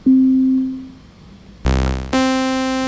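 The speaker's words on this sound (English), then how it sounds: "You can see that's a sawtooth, square, noise, and sine wave." Synthesizer tones switch abruptly between basic waveforms, including sine, square and sawtooth: a pure steady note, then a buzzy harmonic-rich tone, then a brighter buzzing tone, each held briefly.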